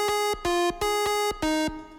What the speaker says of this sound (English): when that lead synth comes in, the wave shaper turns on, and it sounds like this.